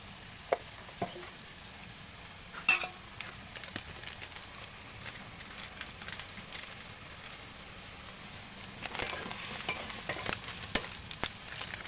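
Mustard paste with turmeric and chili powder frying in a pan for a village-style kundri dish, with a low steady sizzle and scattered scraping stir strokes that grow busier near the end, fairly quiet and close.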